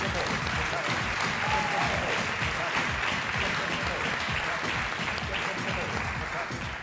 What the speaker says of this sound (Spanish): Ahí está, aplauso